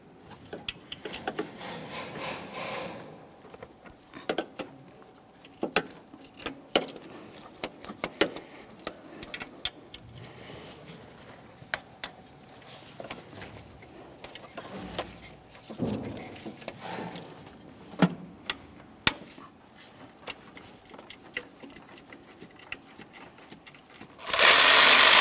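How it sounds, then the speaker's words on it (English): Ratchet and wrench work on the 13mm alternator mounting bolts of a 2013-2015 Chevrolet Malibu 2.5L four-cylinder engine, with intermittent scraping, clicking and metal rubbing, close and moderately quiet, with no talking. "We're going to start dismounting the alternator from the engine."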